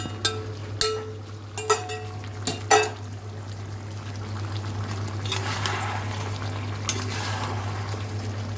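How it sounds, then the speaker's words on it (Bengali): Chicken cooked with five-spice and a sour mixture is stirred in a pan on the stove: a few sharp utensil clinks come first, then a soft, continuous bubbling sizzle, with no voices. "এটাকে এখন নাড়বো, নেড়ে পুরা মিলাই ফেলবো টকটার সাথে"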